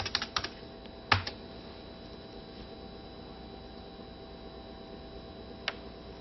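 Keystrokes on a computer keyboard as a command is typed into a networked PC, a few sharp clicks near the start and one later over a steady low hum, with no voices.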